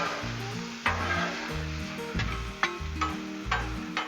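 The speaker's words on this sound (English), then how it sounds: "we're gonna move these peppers over just a little bit and make room for the sausage over on the side" Sausage with peppers and onions frying on a Blackstone griddle, a close, continuous sizzle broken by a few sharp spatula scrapes and taps. Background music plays underneath and no one speaks.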